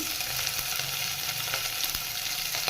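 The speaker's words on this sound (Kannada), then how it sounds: "ಈರುಳ್ಳಿ ಗೋಲ್ಡನ್ ಕಲರ್ ಬರೋವರೆಗೂ ಚೆನ್ನಾಗಿ ಫ್ರೈ ಮಾಡ್ಕೋಬೇಕು." Onions and chopped fenugreek leaves fry in hot oil with a constant, dense sizzle and occasional stirring clicks, close and steady throughout.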